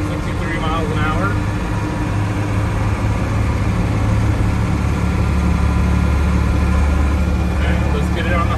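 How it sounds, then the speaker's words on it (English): The turbocharged engine of a Unimog U1300L truck running with a steady, heavy low rumble throughout, loud and close, while a person talks over it. "This one is the turbocharged motor with the high-speed gears."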